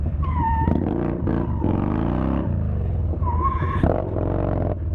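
Yamaha Bolt motorcycle engine revving loud and close while drifting, the pitch rising and falling in continuous surges as the bike slides with its tank nearly out of fuel.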